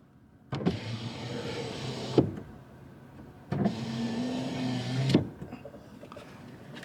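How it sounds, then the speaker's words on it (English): An electric rear sliding window on a new 2025 Semper Gumbie rig truck hums open and shut in two separate motor runs of about one and a half seconds each, each ending in a small clunk, close and clear. "So to open the window, you push or pull."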